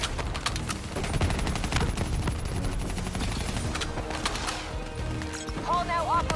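Sustained gunfire during a Call of Duty: Black Ops III mission boss fight, dense rapid bursts running throughout at steady loudness, with voices talking over the shooting.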